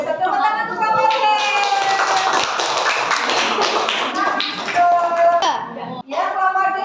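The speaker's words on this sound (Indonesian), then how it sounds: "Tepuk tangan untuk kelompok C." A primary school class of children claps for group C in a classroom, a burst of quick overlapping hand claps running several seconds, with children's voices and chatter mixed in.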